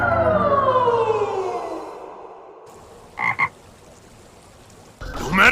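In an anime fight scene, a loud warbling croak slides downward and fades, then a pair of short croaks sounds a moment later before another burst begins. No voices are heard.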